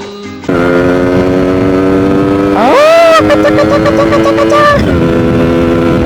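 A Suzuki Samurai motorcycle engine idles loud and close, then revs sharply upward twice, its pitch rising and falling back to a steady idle.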